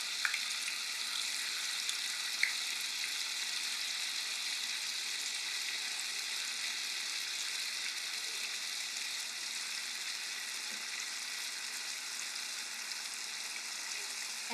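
Tofu frying in oil on medium heat for Vietnamese thit kho gives a steady, even sizzle and hiss that runs unbroken throughout, moderately quiet and with no voices.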